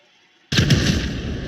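Bomb going off in the video game GTA 5 during a bank robbery, a sudden loud boom after a quiet start, followed by a sustained rumbling roar that holds at full loudness.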